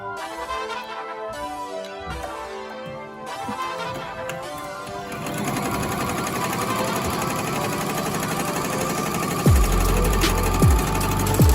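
An embroidery machine stitches a logo at 800 stitches a minute, a fast steady mechanical clatter that grows denser and louder partway through, with a few low thumps near the end.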